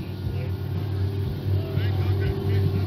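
A turbocharged racing jet boat engine roars steadily at a river race, a loud continuous drone with a low rumble that swells slightly, while someone talks over it.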